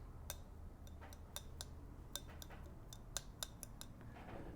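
Plastic handle of a Feather Artist Club stainless folding straight razor being handled, giving light, sharp clicks and ticks at irregular intervals, close and fairly quiet with no talking.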